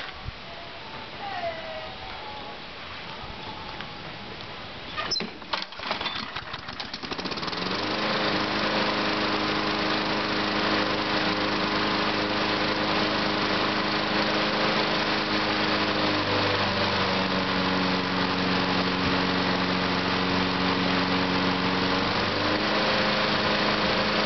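A Craftsman lawn mower with a 6.5 hp Briggs & Stratton engine cold starts after a few pulls on the cord, then settles into a loud, steady close-up idle that continues for the rest of the recording.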